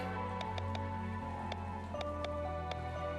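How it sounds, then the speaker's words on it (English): Rain falls steadily in a video game, Chained Echoes, forming a quiet continuous patter with occasional louder drips on a surface, faint and unaccompanied by voices. "Let's get out of the rain."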